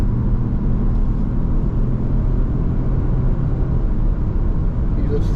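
A 2024 Peugeot 3008 on a test drive accelerates at highway speed, heard from inside the cabin as a steady low engine and road rumble that stays constant and fairly loud throughout.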